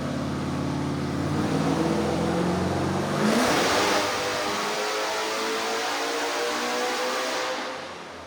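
A Hellephant-swapped Toyota Supra on a hub dyno revs hard, its engine note climbing steeply, then holding at a loud, sustained roar before easing off at the end.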